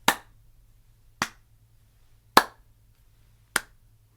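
Four sharp claps, evenly spaced about a second apart, each crisp and close with a quick decay into near silence.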